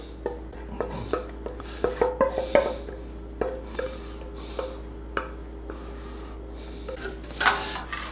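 Melted chocolate is worked across a marble work surface with a utensil, producing scattered scrapes and sharp little clinks in an uneven rhythm. The sounds are close, over a low steady hum.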